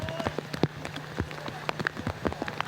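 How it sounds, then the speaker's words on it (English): Light rain patters on the artificial turf of a college baseball field at Mount Union, with scattered close drops tapping irregularly and a faint hum in the background. "I think the rain's starting to come down a little bit."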